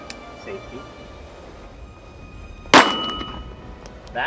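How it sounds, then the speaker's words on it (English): A single sharp report from an RIA 1911 handgun chambered in 22 TCM, loud and close with a metallic ringing tail, against a quiet outdoor background. "That is a loud gun."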